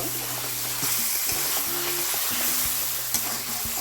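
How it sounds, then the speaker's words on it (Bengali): Chicken pieces coated with turmeric powder fry in a pan, with a constant sizzle. Metal spoon scrapes and clinks repeat at an uneven rhythm, close and fairly loud, with no voices. "এখন এক টেবিল চামচ হলুদ গুঁড়ো দিয়ে দিলাম এবার ভালো করে নাড়াচাড়া করে কষিয়ে নেব"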